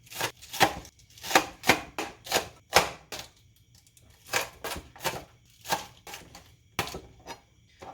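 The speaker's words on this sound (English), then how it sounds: "I think I'm going to start cutting the vegetables." A knife chops vegetables on a cutting board in a home kitchen, in close, loud bursts of rapid rhythmic strikes separated by brief pauses, with no talking.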